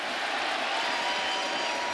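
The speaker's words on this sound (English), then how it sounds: "Well, the sellout crowd is now officially into it." Sellout baseball stadium crowd during a Juan Soto at-bat, a steady wash of cheering and applause that stays broad and even without a clear peak.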